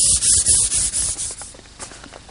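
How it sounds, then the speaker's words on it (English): Hand sanding on a cherry Queen Anne table gives a steady, close, scratchy rubbing in quick back-and-forth strokes, loud at first and then softer. "a little more final sanding, and this table will be ready for the finishing room"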